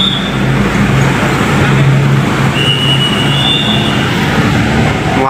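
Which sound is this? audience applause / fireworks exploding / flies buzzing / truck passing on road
truck passing on road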